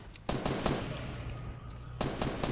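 Rapid bursts of gunfire from the video game Fortnite, a sharp volley at the start, a scattered run of shots, then another burst near the end, loud and close over steady game background noise.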